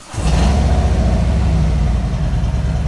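A Harley-Davidson Street Glide from 2014–2023 catches almost instantly and settles into a loud, close, steady idle with an even low throb that holds for the rest of the stretch, with no talking.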